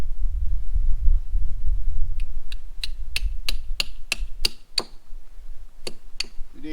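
A hammer drives a metal tap into a maple tree. About a dozen sharp, evenly spaced knocks ring out after a low rumble, then a short pause and a couple more strikes.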